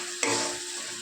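Water splashes into a frying spice paste for a Bengali katla fish-head curry, setting off a sudden sharp sizzle that settles into a steady hiss.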